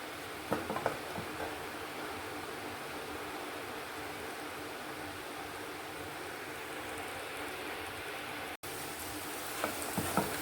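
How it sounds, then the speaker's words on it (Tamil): Shallots sauté in hot oil in a pan for a liver gravy, giving a continuous soft, fine crackling sizzle at close range, with a few louder spatters near the start and end. "நல்லா வெங்காயம் வதங்கிட்டு இருக்குங்க."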